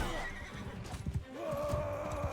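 A horse in Mount & Blade 2: Bannerlord gives a loud, close neigh with clip-clopping hooves during a chaotic skirmish battle.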